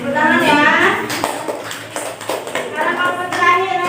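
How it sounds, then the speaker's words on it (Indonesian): A class of children claps during a school computer hardware lesson, scattered claps mixed with loud nearby voices and kids talking over them. "Oke, tepuk tangan ya."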